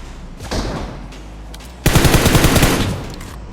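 Gunfire rings out in the BGMI PUBG Mobile video game: a single shot early on, then a loud, close burst of rapid automatic fire that rattles for over a second before fading.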